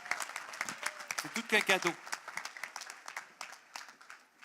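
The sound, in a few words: applause at a business awards gala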